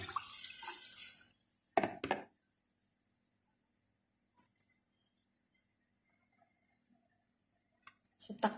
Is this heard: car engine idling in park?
no